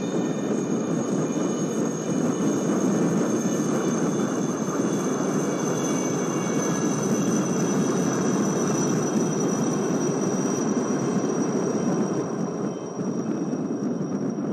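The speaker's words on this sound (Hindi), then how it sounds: "Coming up next are 6 Chetak helicopters from the 321 flight in a diamond formation." Six Chetak helicopters fly past in diamond formation at a presidential naval fleet review in Visakhapatnam, a steady, fairly loud rotor and engine drone holding throughout with a faint high whine over it.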